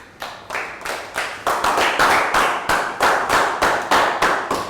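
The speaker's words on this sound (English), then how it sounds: "High five and a big round of applause." A primary-school class claps together in an even rhythm, roughly a dozen and a half sharp, close claps in a steady beat, with no voices.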